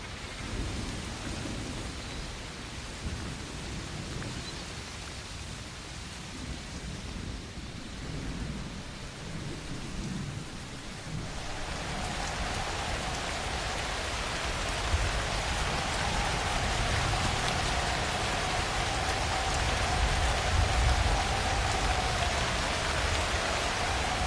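Heavy Australian storm rain pours steadily, growing denser and louder partway through, with low rumbles of thunder rolling beneath the downpour.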